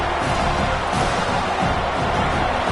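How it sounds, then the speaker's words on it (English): Stadium crowd at a football game roaring steadily and loudly to spur on the home defense, a dense continuous wall of cheering and noise without a break. "Listen to this crowd just shaking the girders of this place trying to help their defense"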